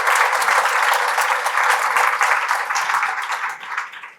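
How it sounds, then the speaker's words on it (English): Conference audience at WIC Day 2024 applauds a speaker, dense loud clapping sustained throughout and tapering slightly near the end. "An applause for Angela."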